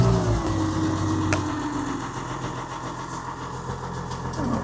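Old vehicle engine settling into a steady idle just after starting, a loud, continuous mid-pitched rumble with a falling tone early on, no talking.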